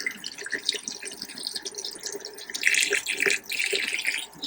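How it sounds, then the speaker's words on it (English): Water rushes from a caravan's hot tap during a drain-down, a steady close hiss of flow with uneven spluttering surges partway through and no talk. "I'm opening the hot tap here now."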